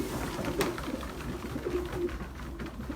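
Racing pigeons in a large competition loft give soft, low, continuous cooing and throaty murmurs, close by and with no voices over them.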